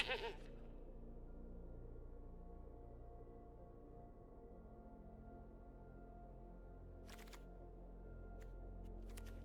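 A goat bleats in the Magic: The Gathering video game during a Duskmourn draft, a short, faint call at the very start over a quiet, steady background hum.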